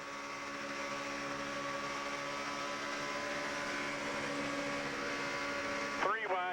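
A NASCAR Craftsman Truck Series race truck at Talladega drones at sustained high throttle, a loud continuous engine whine with a voice breaking in near the end.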